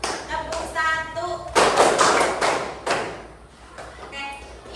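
In a group clap game led by a female counsellor, her voice gives a cue and the room responds with a loud cluster of claps, several hands striking slightly out of sync, before speech returns.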